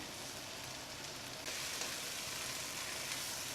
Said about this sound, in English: continue frying till the chicken changes color